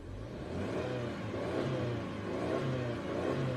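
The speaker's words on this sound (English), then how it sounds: "Here we go for the rev." A 2020 Subaru Legacy engine revs up from idle, a steady mid-pitched drone that swells and eases in a few rising pulses, close by and alone.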